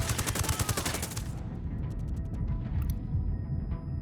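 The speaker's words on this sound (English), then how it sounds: "I'm opening fire." Rapid gunfire in Ghost Recon Wildlands starts as a dense burst of loud automatic shots, then tails off into scattered, more distant shots against a low rumbling battle ambience.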